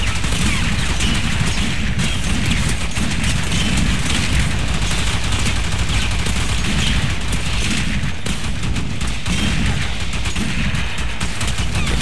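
Continuous, dense gunfire rattles from a pistol fired at enemies in Warframe, shots blurring into an unbroken loud barrage mixed with impacts and booms throughout.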